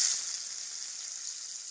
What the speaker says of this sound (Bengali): এবার ওই বেরেস্তা ভাজার তেলেই আমি মাছগুলো ভেজে নেব।